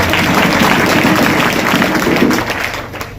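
An audience at a kirtan claps for a child, a dense, steady wash of applause held at a constant level that tapers slightly near the end.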